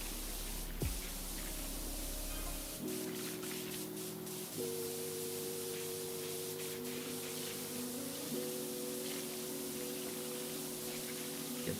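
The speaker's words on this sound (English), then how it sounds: "I don't know why at the top when I'm this close to it I'm using this spray nozzle" Pressure washer spray nozzle in PowerWash Simulator hissing in a steady, continuous broadband stream, with a low motor hum and tonal whine underneath that shift pitch partway through.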